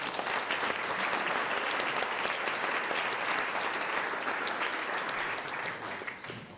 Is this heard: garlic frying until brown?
no